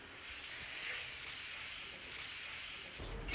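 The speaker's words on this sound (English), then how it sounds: "Now we need to give the whole bath a really good sand." Wet and dry sandpaper rubbed over a bath surface in steady back-and-forth strokes, a continuous close hiss with a soft rhythmic pulse, no voices, ending in a brief bump.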